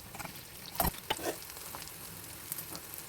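Bitter gourd pieces frying in oil, a soft steady sizzle with a few quick scraping stirs near the pan, fairly quiet throughout.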